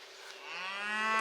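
A cow on a summer farm lets out a single long, rising moo that swells in loudness, near and clear with no talk over it.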